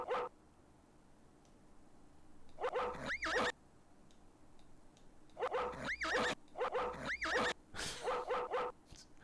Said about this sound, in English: A sheepdog. He's a good sheep herder.